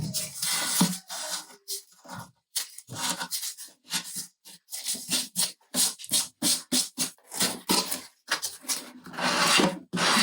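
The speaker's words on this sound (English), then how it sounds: "So I sand it off so it comes to the edge." Sandpaper rubs découpage paper off the side edge of a wooden drawer in a rapid series of short, rasping strokes with brief pauses between bursts, close and fairly loud, with no talking.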